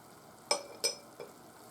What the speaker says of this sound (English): when the onions are soft enough, you can add mushrooms